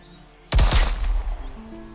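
Gunfire in the zombie survival game HumanitZ: a sharp nearby shot bursts out about halfway through, followed by a quick second report and a lingering rumbling echo that slowly fades.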